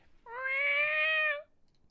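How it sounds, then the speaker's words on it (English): A cat meows once in a long, drawn-out, clear tone lasting about a second, moderately faint in the background with no talk over it. "you can hear his cat in the background is going"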